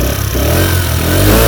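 A Peugeot Kisbee 4T injection scooter with a catalytic exhaust runs steadily close by, a moderate four-stroke engine hum that holds even and continuous with a slight rise toward the end, no voices.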